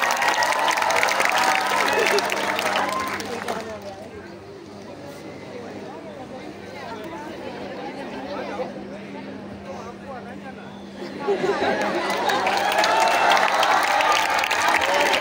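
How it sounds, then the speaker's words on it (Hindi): An audience at a school poetry gathering (kavi sammelan) breaks into applause, a dense burst that fades to a quieter stretch of crowd murmur and talking before a second strong round of clapping swells back. "आरपी सर का जोरदार तालियों से स्वागत"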